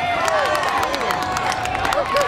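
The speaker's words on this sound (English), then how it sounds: "Come on, let's cheer her on." Cheering and clapping from a crowd at a contest at the opening night of the 2009 Topsfield Fair, lively and close, with whistles, shouts and bright midway tones under the noise.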